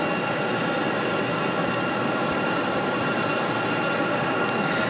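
A Delta Boeing 737-800 departs from Raleigh-Durham airport, a steady broadband jet roar heard from a distance that holds evenly throughout with no talk over it.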